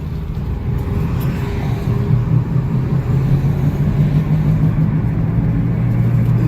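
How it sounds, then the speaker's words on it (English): Inside a Jeep Compass on the move, the CVT transmission gives off a steady, loud low roar over continuous road and engine rumble that swells slightly as the car drives on, with no voices. "Now, because the CVT transmission has been known to give off roaring"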